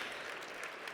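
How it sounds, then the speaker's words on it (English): A session audience applauds a panelist named Otto, producing a brief, faint spatter of clapping heard from a distance for about a second with no voices over it. "You can applaud Otto, obviously."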